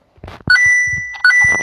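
Coin pickups in the mobile game Indian Bike Driving 3D: two bright, ringing chime tones, each a short rising ding that sustains, about three-quarters of a second apart, loud and alone.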